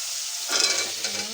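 Bengali masala paste being fried and stirred in a pan for fish curry, a soft sizzle that swells briefly in the middle, close and moderately loud with no talking.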